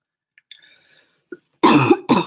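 After a few faint, quiet noises, two loud, close coughs burst out, one right after the other.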